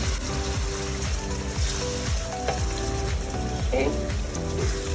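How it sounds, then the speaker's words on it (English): Diced tomatoes frying in a pan for yam and egg sauce, a constant close sizzle with faint rhythmic clinks from stirring. "allow this to fry for 2 minutes"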